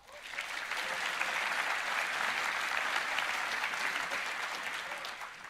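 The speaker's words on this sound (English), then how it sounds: "Let's give them a round of applause." Audience applause at a tech conference keynote rises quickly into a steady, full round of clapping from a large crowd, heard at a moderate distance and fading slightly at the end.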